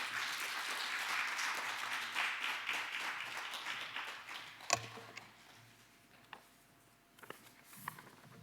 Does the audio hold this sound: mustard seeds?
no